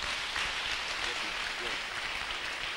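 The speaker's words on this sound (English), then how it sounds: "Clap for the Jesus Christ, please." A church congregation applauds during a testimony service, a steady wash of clapping from a crowd that holds level throughout, with a faint voice underneath.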